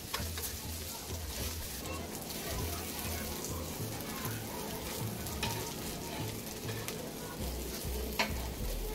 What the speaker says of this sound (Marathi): त्यानंतर एका पॅनमध्ये थोडे तेल घेऊन थोडं गरम झाल्यास त्यामध्ये पनीरला व्यवस्थित शॅलो फ्राय करून घ्या।